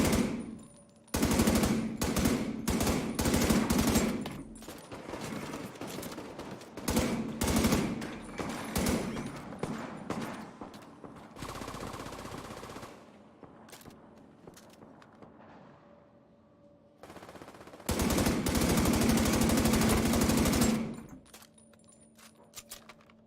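Basic starting gun firing in Tom Clancy's The Division 2, delivered in several loud bursts of rapid automatic shots separated by quieter pauses, with faint clinking between the volleys.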